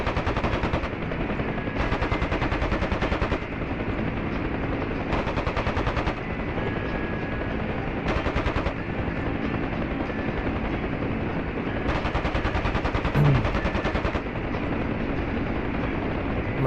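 An aircraft gunship's gun fires in a Nightstalker larp game, with several loud rapid bursts spaced seconds apart over the constant drone of a helicopter.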